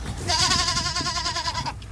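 A goat bleats once in a long, wavering call of about a second and a half, loud and close with no talk over it.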